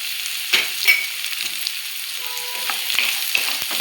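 Carrots, green peas, sweet corn and beans are stirred in a hot pan for a ragi vegetable soup, with light sizzling and a few scraping knocks of the spoon, close and steady.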